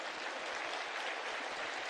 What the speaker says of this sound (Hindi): भाई ताली बजानी है तो जोर से बजाना।